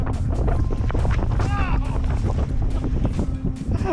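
Strong wind gusts over open water during high-wind boat fishing, a steady close roar buffeting the microphone throughout, with a brief voice rising through the middle.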